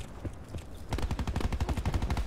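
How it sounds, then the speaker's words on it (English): Submachine gun fire in Call of Duty Black Ops 4: after a quieter start with a few scattered shots, a sustained rapid automatic burst rattles on loudly and evenly for over a second. "I think it's a submachine gun."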